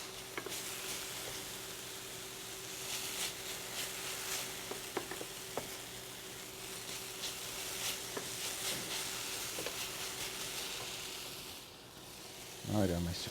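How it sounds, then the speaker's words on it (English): Two cloves of garlic sizzle and fry in a pan for homemade veggie burgers, a steady close hiss with occasional stirring clicks and a spoken voice over it. "We want to saute this a little bit"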